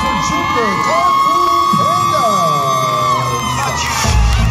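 A crowd at a cheer competition event cheers, whoops and shouts loudly and continuously, with high children's yells and voices rising and falling over the roar.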